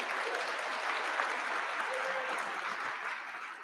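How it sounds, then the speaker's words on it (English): Steady, dense applause fills a large commencement ceremony crowd at Stockton University, a continuous wash of many hands clapping at moderate distance with no break. "Another round of applause for Brittany."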